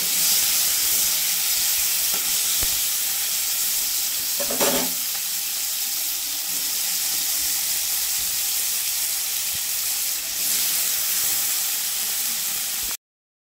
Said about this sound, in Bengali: এখন আমি ভাজবো, হালকা মতন ভাজবো, বেশি কড়া ভাজবো না।